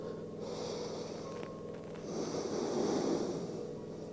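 Slow, audible breathing during a yoga stretch, a long drawn inhale swelling into a fuller, louder exhale, close and quiet with no speech.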